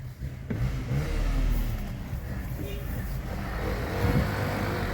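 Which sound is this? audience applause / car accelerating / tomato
car accelerating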